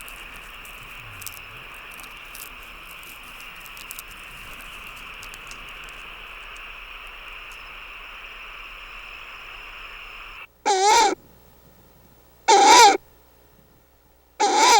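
An owl, filmed in the wild for a nature documentary, gives a few loud, well-separated calls near the end after a long stretch of steady, droning night ambience.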